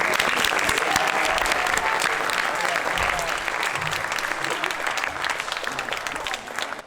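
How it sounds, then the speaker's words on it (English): Audience at a Scout court of honor gives a full round of applause, loud and sustained clapping from many hands with faint crowd murmur, tapering slightly toward the end. "One more round of applause for Eli."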